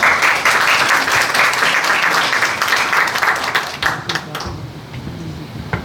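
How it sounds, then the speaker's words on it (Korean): Audience at a book launch event claps loudly to welcome the president of the Jeonbuk Carnegie Club to the podium, a dense round of applause that tapers off after about four seconds. "큰 박수로 환영해 주세요"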